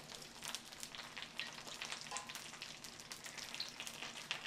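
Kelp frying in a hot pan, a dense, continuous crackling sizzle heard close and fairly quiet, with scattered sharper pops throughout and no voices.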